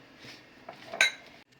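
Lemon juice and a ginger, garlic and coriander paste being mixed in a bowl, a brief scrape followed by a sharp clink of a spoon against the bowl, close and quiet.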